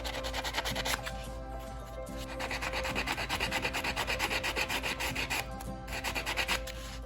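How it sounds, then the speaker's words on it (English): A nail buffing block rubs steadily along the edges of a napkin-covered Resincrete craft piece, producing a close, continuous rhythmic sanding scrape with brief pauses between strokes. "I went ahead and used my nail buffing block and just sanded it off on the edges."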